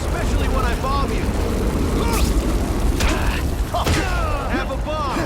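Bombs exploding in The Amazing Spider-Man 2 game, a steady din of booms, mechanical clatter and bursts filling the scene continuously while characters talk over it.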